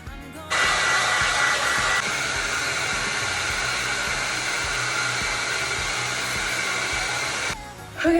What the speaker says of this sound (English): I use a wet brush and go through, brush it all out, and then I blow dry it.